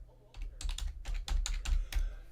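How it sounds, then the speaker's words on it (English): Quick typing on a computer keyboard, a run of close, crisp key clicks in short bursts with brief pauses, heard alone without talk. "I'll type it in the chat."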